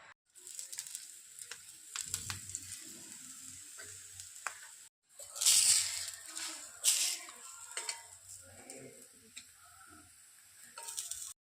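Palak paratha made with besan frying in oil on a pan, a steady sizzle with stronger bursts as it is turned and pressed, plus occasional scraping.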